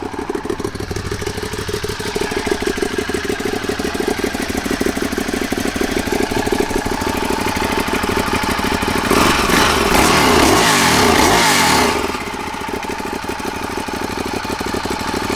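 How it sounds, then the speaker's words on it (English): A 2011 Ducati Diavel motorcycle idles steadily nearby, its engine throbbing in a fast, even pulse for the whole stretch, with a brief louder, rougher surge partway through before settling back to a constant idle. "Fires up and runs great, guys."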